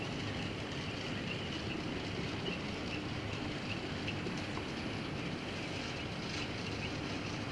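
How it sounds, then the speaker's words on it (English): A model railroad FP45 locomotive rolls into a southbound yard on a layout, giving a steady, even rumble and hum with faint high whine and no pauses or talking. "the FP45 making his way into the southbound yard"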